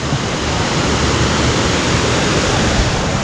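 A free-to-visit river surrounded by trees flows loudly, a dense, steady rush of water that stays constant and close with no voices.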